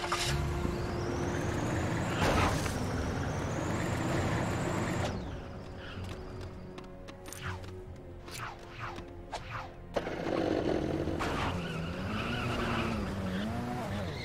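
Car engine revving and tires skidding with squeals in the Lego Indiana Jones 2 video game, loud and continuous with a rising engine whine, then a quieter stretch of clicks and bumps before the engine and skidding return.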